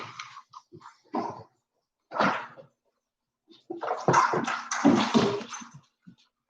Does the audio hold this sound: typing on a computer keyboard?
no